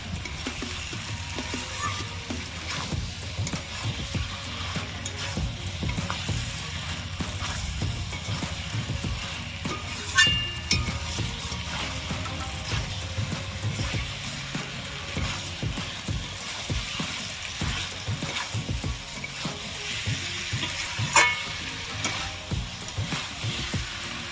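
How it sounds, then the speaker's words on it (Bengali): Potatoes that were fried earlier are sautéed with oil-released masala in a pan, giving a steady close sizzle with scraping stirs throughout and no talking. "এবার আমি ভেজে রাখা আলুগুলো দিয়ে দেবো আলুগুলো দিয়ে দিয়েছি ভালো করে কষিয়ে নেবো"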